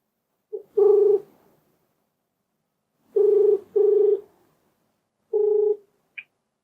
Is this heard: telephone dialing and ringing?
yes